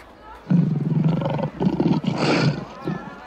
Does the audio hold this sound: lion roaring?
yes